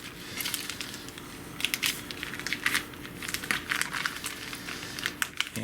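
Plastic bags of homemade tempeh being punched with holes, giving a run of crinkly plastic crackles and sharp pokes in irregular bursts, close and fairly loud with no talking.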